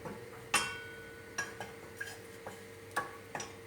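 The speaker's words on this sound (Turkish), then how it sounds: "Kaynayana kadar karıştıracağız." A spoon clinks and scrapes against a metal pot while stirring pudding at irregular intervals, quiet stirring with occasional sharper taps.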